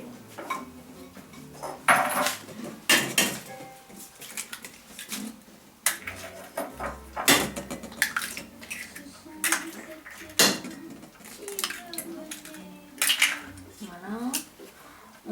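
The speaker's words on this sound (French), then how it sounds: "On va commencer par casser les 3 œufs." Three eggs being cracked on a bowl rim for a gâteau nantais in a home kitchen, with sharp separate taps and clinks of shell on the bowl and utensil clatter, mixed with someone speaking French.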